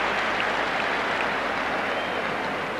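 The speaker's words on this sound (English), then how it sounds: "the crowd give him a rousing round of applause" Football stadium crowd applauding as a substituted Irish player leaves the pitch during an Ireland versus USSR match in 1984, a steady, dense wash of distant clapping and cheering filling the whole stretch at even volume.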